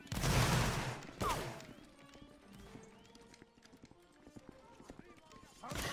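A Napoleonic Wars musket volley in a Roblox battle opens with a loud, rolling burst of many shots, followed by scattered game noises, hoof-like clatter and distant voices, with a further burst at the end.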